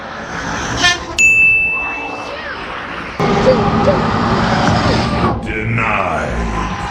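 A semi truck air horn honks from a roadside, one bright sustained blast followed by road and engine noise from passing traffic, with excited voices talking over it.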